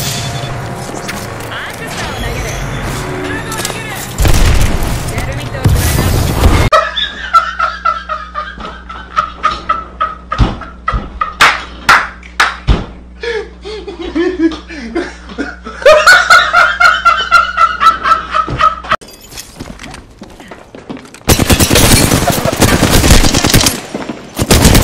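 Rapid automatic gunfire bursts from the video game Apex Legends, loud and dense with sharp repeated shots and stretches of continuous firing, under game effects and a voice talking and reacting.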